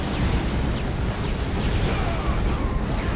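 Explosions from a strafing run in a Dawn of War Soulstorm multiplayer battle form a dense, continuous rumble of blasts and crackling bursts, steady in loudness throughout.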